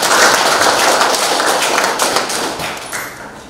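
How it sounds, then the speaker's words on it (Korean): Loud, dense applause from a crowd of guests at a Korean photography club launch ceremony, steady clapping filling the whole stretch and easing slightly toward the end. "큰 박수 한 번 더 부탁드리겠습니다"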